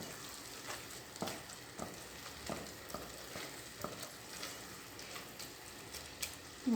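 Tomatoes sautéing in a pan for a chicken pie filling give a soft, steady sizzle, with a few faint scrapes and taps of stirring, quiet and with no voices.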